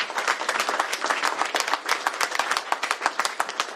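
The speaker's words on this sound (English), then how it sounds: "please give them a round of applause for looking after each other" Audience applause for community partners at a governor's bill signing: dense, steady clapping from a crowd, loud and continuous throughout with no talk over it.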